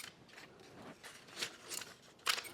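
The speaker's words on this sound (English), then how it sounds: "And just cut up some pieces of paper." Scissors snip through paper in a few quick, crisp cuts, close and quiet, with the last cut the sharpest.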